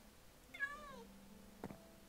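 A cat meows once inside a Minecraft game, a single clear falling meow followed by a brief soft click, over a quiet steady background hum.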